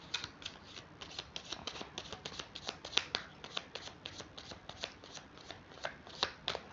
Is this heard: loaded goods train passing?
no